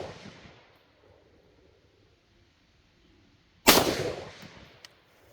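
A single sharp rifle shot from a JLD PTR 91K (G3-style) fired offhand cracks out loudly after a quiet stretch, its report decaying over about a second with a faint trailing echo.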